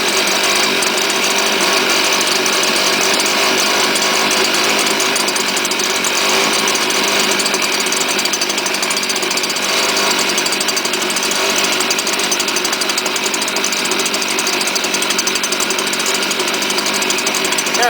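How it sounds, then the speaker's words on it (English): A cold STIHL chainsaw engine, gas recently drained, runs steadily while warming up, a loud, dense buzzing rattle held without a break. "Engine's cold, so let it warm up."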